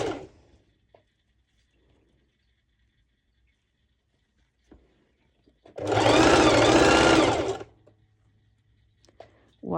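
A sewing machine stitches ruched sides on shorts in one close, buzzing burst of about two seconds, set amid mostly quiet with faint handling noises.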